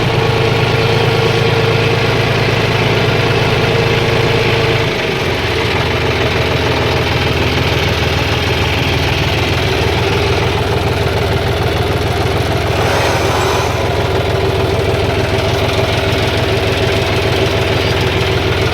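A farm tractor engine idles in a field, a steady, loud mid-to-low rumble with a faint knocking beat running evenly throughout, near and unbroken.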